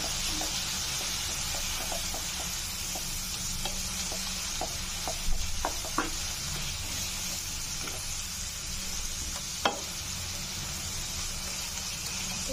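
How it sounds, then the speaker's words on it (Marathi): Stirring coriander powder and turmeric into cooked dill greens in a pan gives a steady soft scraping and sizzling, with a few sharper clinks of the spoon against the pan. "आणि व्यवस्थित मिक्स करून घ्यायचं।"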